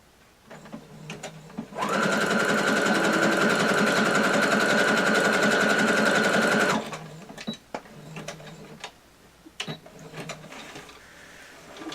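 A sewing machine with a standard foot stitches the edge of a purple fabric appliqué, running in one loud, steady whirring burst of about five seconds, framed by quieter handling clicks and fabric rustle before and after.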